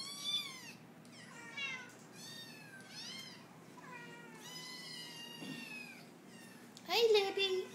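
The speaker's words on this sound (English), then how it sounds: "And here's some baby kitties." Several small kittens mew in high, thin cries, one after another, with a louder burst of meowing near the end.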